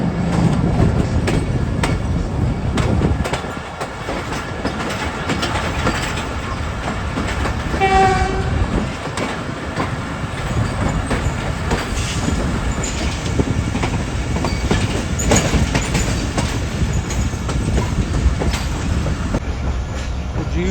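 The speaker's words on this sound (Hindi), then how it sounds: "तो प्लेटफॉर्म नंबर 3 की तरफ बढ़ रही है हमारी ट्रेन" The Tezgam passenger train rolls toward platform 3 with loud, continuous rumbling and clatter of wheels on track, with a brief horn-like tonal sound in the middle.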